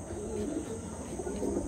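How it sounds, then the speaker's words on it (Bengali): Pedigree pigeons kept for sale give off soft, continuous low cooing that blends into a steady murmur, close by and fairly quiet, with no speech. "একদম অরিজিনাল ব্লাডের পায়রা বন্ধুরা"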